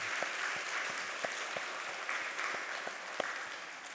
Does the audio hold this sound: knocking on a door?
no